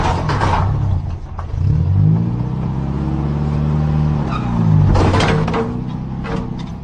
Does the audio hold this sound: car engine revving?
yes